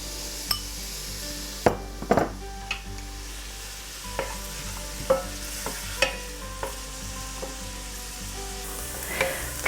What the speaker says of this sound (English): We're going to saute the chopped onion for a few minutes until it starts to brown.